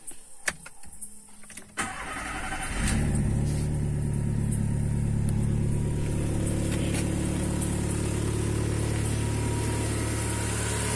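Volkswagen Voyage G5 engine cranking after sitting unused for a long time, catching around two seconds in, then settling into a steady close idle hum; a few clicks and handling sounds come first.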